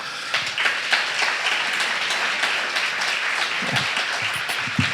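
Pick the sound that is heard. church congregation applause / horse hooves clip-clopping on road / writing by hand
church congregation applause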